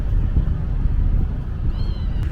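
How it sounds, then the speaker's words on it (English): A small cat meows briefly and faintly near the end, over a steady low rumble of ambient park noise in Bagh-e-Jinnah, Lahore. "And they have little cats here."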